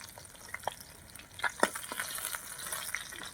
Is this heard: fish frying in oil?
yes